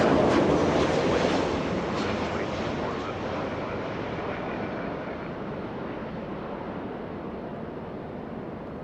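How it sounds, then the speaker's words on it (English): A Delta airliner lifts off from LAX far away, a soft, distant jet rumble that starts strongest and slowly fades as it climbs away. "The departure in the distance, lifting off, flying to Detroit to Michigan."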